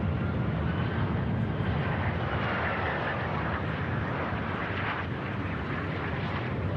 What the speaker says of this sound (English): Aircraft about to touch down, Ryanair.